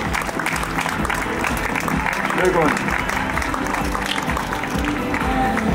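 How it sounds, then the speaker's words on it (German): Steady applause from a crowd at the Großer Preis der Stadt Trier 2023 bike race, honoring the winner; loud, continuous clapping throughout with an announcer's voice talking over it. "Einen großen Applaus bitte für den souveränen Sieger"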